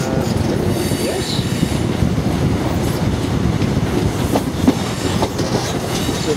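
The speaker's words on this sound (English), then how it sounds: "East Coast HST departing York." An East Coast HST train departing York station rumbles steadily past with wheel clatter and occasional squeals, a continuous heavy rolling noise close by.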